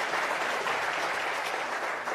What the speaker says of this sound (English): Let's give a round of applause to Dr.